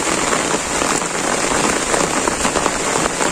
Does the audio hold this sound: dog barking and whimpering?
no